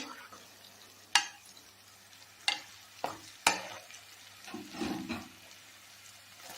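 Onions frying and being stirred in a pan while cooking an Andhra-style fish curry, with several sharp scrapes of a spoon against the pan between stretches of quiet sizzling, heard close with no talk.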